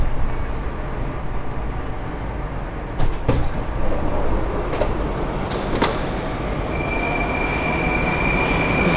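Inside a metro train car as a rider wheels an electric scooter out through the doors, a loud steady rumble of the carriage fills the scene, with a few sharp clanks and a thin high squeal from the wheels.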